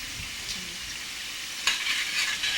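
Soft sizzling and scraping of a spoon stirring all-purpose seasoning into a simmering beef jollof rice sauce, a steady hiss with a sharper stir stroke near the end.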